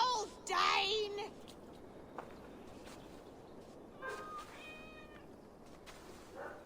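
A cat meows in the video game Assassin's Creed Valhalla, a loud drawn-out meow at the start followed later by softer, wavering cries over quiet game ambience.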